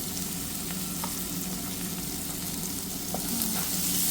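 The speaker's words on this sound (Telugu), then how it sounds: "కొంచెం ఫ్రై చేసుకోవాలి. ఆనియన్స్ని కొంచెం పసుపు వేసుకుంటున్నాను గైస్" Onions with turmeric fry in a pan, giving a dense, continuous close sizzle with faint occasional stirring ticks and no voices.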